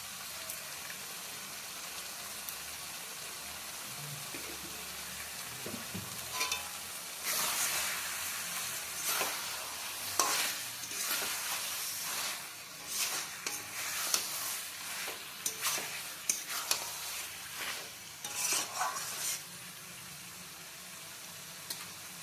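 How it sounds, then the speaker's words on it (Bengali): Chicken curry with khoya kheer being stirred in a pan, a soft simmering sizzle that grows into repeated scraping and stirring strokes, close and uninterrupted by talk. "খোয়া ক্ষীর দিয়ে আবারও ভালোভাবে নেড়ে চেড়ে নেওয়া হচ্ছে।"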